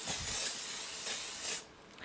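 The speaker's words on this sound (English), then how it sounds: "And then I'm going to spray the top of the steak" Avocado oil spray hisses steadily onto the top of a ribeye steak as it goes into an air fryer, a near, even spray of about a second and a half that cuts off abruptly.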